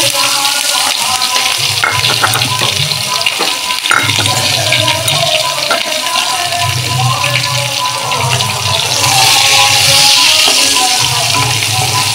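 Green chillies and chopped onion fry in hot oil in a pan, giving a steady close sizzle with stirring and scraping, and the hiss swells louder toward the end.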